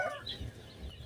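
A chicken gives a brief, faint cluck at a village home on a rainy day, quiet against low background noise, with no voices.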